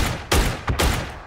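Gunfire in PUBG, two short bursts of shots cracking close by, separated by a brief pause, with a fading tail after each burst.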